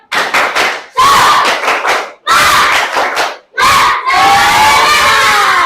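A class of fourth-grade schoolchildren performs a spirit clap chant, four loud rhythmic bursts of shouting and clapping in unison, the last stretching into a long cheering yell, with short breaks between them.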